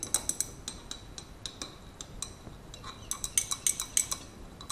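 A spoon stirring a solid into liquid until it dissolves, for a purple cabbage indicator experiment, gives light, rhythmic clinks against a container, quick and regular, close and fairly quiet.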